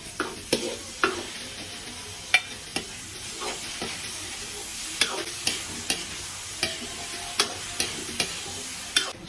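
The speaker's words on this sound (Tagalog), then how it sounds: "Igisa na tayo ng bawang mga kumarites. Ilaw ng sibuyas. And of course, itong atay." Garlic, onion and liver sauté in a pan for chop suey, with a steady sizzle broken by regular sharp scrapes and clacks of a utensil stirring, close and fairly loud, with no talking.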